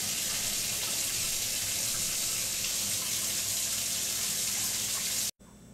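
Warm water pours steadily from a cup into a mixing bowl for bread dough, a continuous close splashing rush that stops abruptly near the end.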